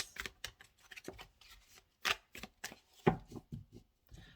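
Tarot cards being shuffled by hand at close range, giving quick papery riffles and soft slaps in short irregular bursts with brief pauses between them.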